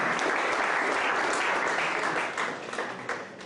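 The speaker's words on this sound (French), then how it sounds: "Merci des applaudissements." Audience applause at a presidential investiture ceremony, a dense, sustained wash of many clapping hands that eases slightly toward the end, with faint voices underneath.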